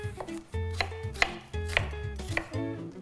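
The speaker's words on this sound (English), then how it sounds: "the first thing we're going to do is chop up our onion" Knife chopping an onion on a cutting board in a restaurant kitchen, a quick rhythmic series of firm, close chops with no talking.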